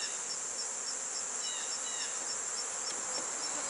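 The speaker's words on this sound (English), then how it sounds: "Got one here buzzing my eyes right now." Honey bees buzz around a beehive in a steady, dense drone, with one or two individual bees flying close past, and no voices over the hum.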